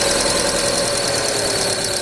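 A car engine runs at ignition with a loose drive belt giving a steady, high squealing whine over a dense mechanical rumble, loud and close, with no voices present.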